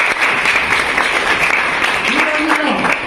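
Audience applauding at a girls' high school event in Chagalamarri, Nandyal district, a steady dense wash of clapping lasting the whole stretch, with a voice briefly rising over it near the end.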